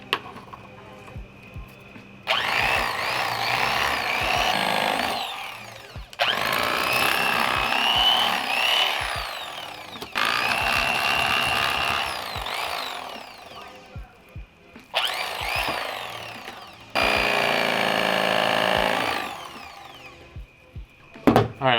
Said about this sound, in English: got my electric knife, so let's just start cleaning them here